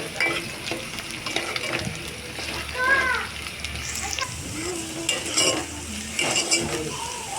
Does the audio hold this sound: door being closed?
no